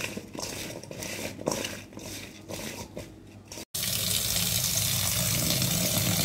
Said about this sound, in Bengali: লবণ মাখানো আমড়াটাকে এখন ভালো করে ধুয়ে নিচ্ছি